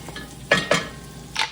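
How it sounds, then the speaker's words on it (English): Vegetables sauteing in a pan for minestrone soup, with a few close stirring scrapes of a utensil over a soft sizzle. "So now we've got our vegetables sauteing."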